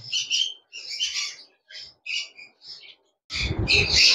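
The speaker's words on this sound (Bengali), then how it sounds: "এই সাইডে রয়েছে 3 পিস ব্লু কোনোর, অনেক সুন্দর ব্লু কোনোর।" Loud, harsh squawks from blue conure parrots in repeated bursts, separated by short pauses, ending in a longer, louder raucous outburst, at a bird market in Mirpur, Bangladesh.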